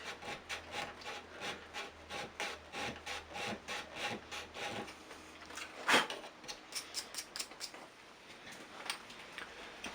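A chisel paring wood for a V joint, a series of close, rhythmic scraping strokes with light ticks, one sharper knock midway, all fairly quiet.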